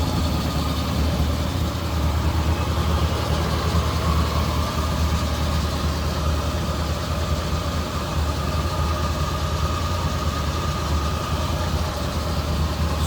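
A 1985 Jeep CJ-7's 4.2-liter inline-six, running on propane, idles smoothly and steadily at close range, a constant low rumble with no voices over it.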